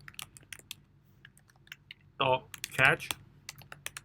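Soft, close computer keyboard typing ticks away in short irregular runs, with someone speaking briefly in the middle.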